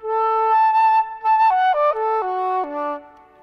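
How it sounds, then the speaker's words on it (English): Solo flute, a woodwind instrument, playing a clear melody: a long held note, then a quick run of descending stepwise notes, close and fairly loud with no talking. "The flute is a woodwind instrument, which means I play it using my air."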